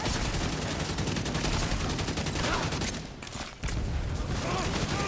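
Sustained heavy gunfire from a video game roars close and loud in a dense, nearly unbroken stream of rapid shots, dipping briefly before resuming, with a voice talking over it.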